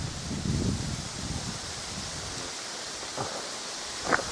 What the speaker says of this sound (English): The leaves tremble in the wind because of the density and the shape of them.